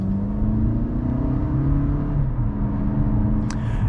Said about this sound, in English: Give it a little bit of gas.